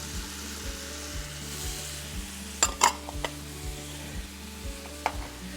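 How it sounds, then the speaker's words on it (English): Chopped onions frying in melted butter in a pan for chicken à la king, a steady close sizzle with a few sharp clinks of a utensil against the pan partway through. "Man, that butter is melted now, and it's time to go in with my onions."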